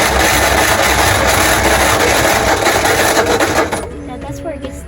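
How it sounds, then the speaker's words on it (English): A 1956 Ford Fairlane engine, running for the first time in 15 years, roars loudly and roughly up close for nearly four seconds, then abruptly cuts out, leaving a fading low rumble and faint clatter. "Let's try it again and see if it'll idle."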